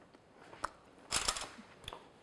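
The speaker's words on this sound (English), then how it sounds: "nice crunch of the nuts" Chewing chocolate marshmallow fudge with nuts, heard as quiet, close crunches: a few soft bites, then a louder cluster of crisp crunching in the middle.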